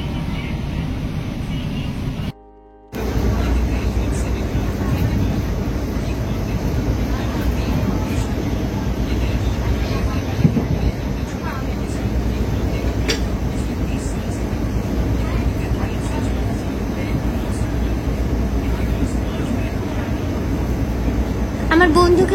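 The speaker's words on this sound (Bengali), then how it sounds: "এখানে ট্রেন থামলো, এখানে কিন্তু ট্রেনের কোনো স্টপেজ নেই" An express train slows and stops near a station, with a steady low rumble and an occasional faint squeal. Quiet voices of passengers are heard underneath, and there is a brief gap near the start.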